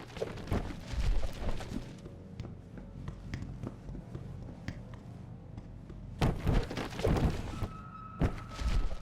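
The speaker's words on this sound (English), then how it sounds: "Just love exploding cardboard boxes." Cardboard boxes blown apart in Deus Ex: Human Revolution, scattered thumps and clattering knocks at mid distance, with a denser cluster of hits toward the end.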